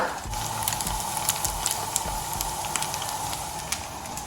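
Instant noodle pakodi fry in hot oil with a steady broadband sizzle and hiss, a dense crackle of small pops running continuously, close and moderately loud with no voices.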